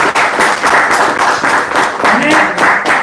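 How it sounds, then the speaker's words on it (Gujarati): An audience at a membership meeting claps together, a dense, loud burst of applause lasting a few seconds, with voices mixed in. "એના માટે એક તાળી થઈ જાય."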